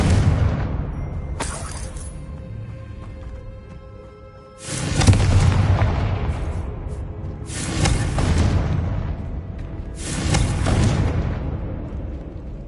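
Confringo blasting spells going off in Hogwarts Legacy, a sequence of loud booming explosions with broadband bursts roughly every two to three seconds over a continuous rumbling game backdrop.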